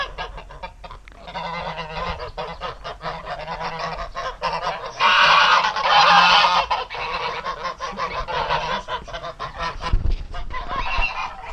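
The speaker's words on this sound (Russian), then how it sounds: "Выпустили гусей." Geese let out in the morning on a rural farmyard honk loudly and continuously, a close, overlapping chorus of calls with a few louder bursts.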